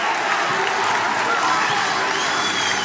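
A basketball crowd at the Curry Center fills the arena with steady, loud applause and cheering after a pair of big plays, a dense roar that holds for the whole stretch with no break.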